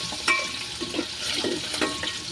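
Soup base for yellowfin tuna sinigang sautés in a pot, giving a soft, busy sizzle with a few sharper clinks and stirring scrapes, close and moderately quiet, with no one speaking.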